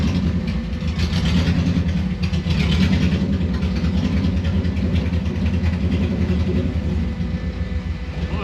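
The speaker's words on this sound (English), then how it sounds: "See if we can give it a little bit more gas." A 1974 VW Bus fitted with a Subaru engine runs under a little more throttle, a loud, steady close-up engine rumble that swells slightly early on and then holds even.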